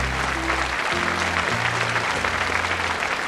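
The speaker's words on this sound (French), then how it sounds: "J'aimerais qu'on les applaudisse." Studio audience at a French television show clapping steadily and loudly, dense even applause throughout with faint musical tones underneath.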